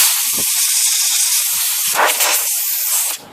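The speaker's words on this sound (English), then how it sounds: "then you can hit it with the air, blow that stuff out of there" Compressed air blasts into an IBM Selectric typewriter being cleaned of sticky key stems, a steady loud hiss lasting about three seconds with brief sputters before cutting off abruptly.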